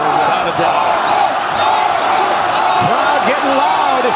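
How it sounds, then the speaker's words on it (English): Crowd at a wrestling match growing loud: a dense, steady roar of many voices with shouts and whoops rising over it, close and continuous. "Crowd getting loud."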